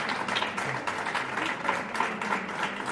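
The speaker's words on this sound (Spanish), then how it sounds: "a mí me gustaría que le digáis un aplauso a Alberto" A concert audience claps for Alberto in a dense, continuous burst of applause, fairly soft and a little distant, with no clear voices on top.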